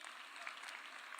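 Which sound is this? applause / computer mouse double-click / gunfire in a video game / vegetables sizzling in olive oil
applause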